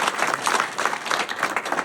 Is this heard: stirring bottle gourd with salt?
no